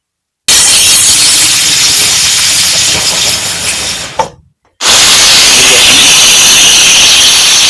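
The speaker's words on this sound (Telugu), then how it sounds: "కుక్కర్ పెట్టి హైలో పెట్టుకుని 3 విజిల్స్ రానివ్వాలి." A pressure cooker on a high flame, cooking dal and tomato, vents steam in a loud, sustained hiss that breaks off briefly, then resumes at full force.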